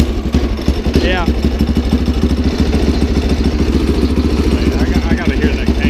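Rat rod wagon engine idling with the choke on, a lumpy, loping cam rhythm chugging steadily and loud throughout, with a few faint higher squeaks over the low throb.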